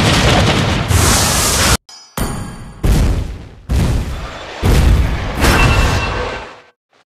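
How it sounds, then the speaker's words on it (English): Loud booming explosions from a turret being destroyed in a video game come in a series of heavy blasts, separated by short gaps, close and dominant, with no voices. "Your team destroyed a turret!"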